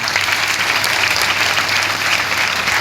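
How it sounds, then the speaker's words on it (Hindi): Loud, dense applause from an audience at an anniversary celebration speech, with steady continuous clapping throughout and no voices over it. "एक बार जोरदार तालियां मेरी फ्रंट लाइन में बैठ के अप्लाई करिए।"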